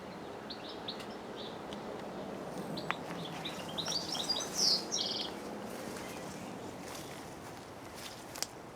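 Birds chirp and twitter in maple trees in a spring garden in May, scattered short high calls with a brief louder burst midway over a soft outdoor background hum.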